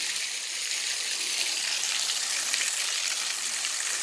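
Waterfall in Shawnee National Forest splashing onto rocks, a continuous hissing rush of falling water, steady and fairly close with no voices.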